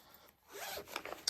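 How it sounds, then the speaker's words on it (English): A zipper is pulled along an embroidery project bag, a close, quiet rasping slide lasting under a second, followed by a few small rustles and clicks, with no voices. "I've got threads catching in the zippers"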